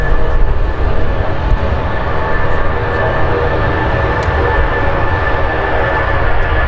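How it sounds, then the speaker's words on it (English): Boeing 757 at Manchester Airport, a loud, steady broadband engine roar with a faint high whine held throughout, close and continuous without talk. "Boeing 757."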